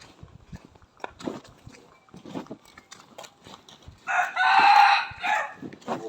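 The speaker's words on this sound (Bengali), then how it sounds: "মুরগ এরকম ডাক দিত" A rooster crows once loudly and close in the early morning, a strained drawn-out call near the end, after scattered soft clucks and shuffling sounds.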